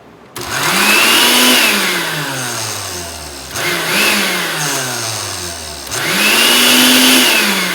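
Blender grinding thick beet sauce, with no liquid added, in three loud bursts: each one spins up sharply, then its pitch sags as the load drags it down.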